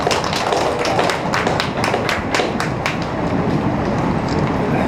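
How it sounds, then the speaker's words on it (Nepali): An audience applauds at a gathering at the Shri Krishna Pranami temple in Itahari, a dense, steady, loud wash of many hands clapping throughout, with a few sharper individual claps standing out and no talking. "ताली, कृपया ताली बजाइदिनु होला।"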